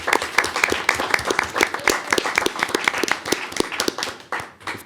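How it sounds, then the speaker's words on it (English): A board meeting audience applauding graduates, with distinct individual claps from a small group rather than a dense roar, irregular and fairly close, tapering slightly at the end. "If we could please give them a wonderful round of applause."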